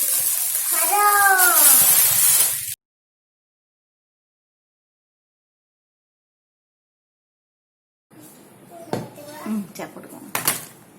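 A Hawkins Futura non-stick kadhai, a 4-litre, 30 cm deep fry pan, is handled near the end, with several close metallic clanks and rattles. A voice is heard at the start, followed by a long silence.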